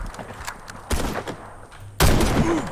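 Mosin rifle fire in a Warface or PUBG match: a few sharp shots, the loudest and closest near the end, over background game noise, with no talking.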